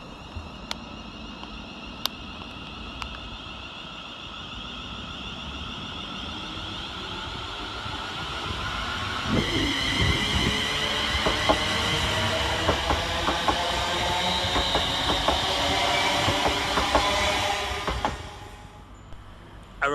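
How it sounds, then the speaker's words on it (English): A ScotRail Class 380 electric train departs on the far side of Paisley Gilmour Street station, a rising motor whine and rolling rail noise building midway, with clanks of wheels over joints before it fades. "Departing over on the far side is 380104, working the 1258 Scotrail service from Glasgow Central to Largs"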